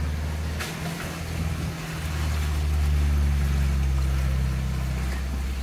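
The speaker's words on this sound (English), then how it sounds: "And I'm just gonna go in my crawler gear." A manual Ford Bronco Badlands crawls off-road in crawler gear, its engine a steady low rumble that rises slightly and holds, close and continuous with no talk.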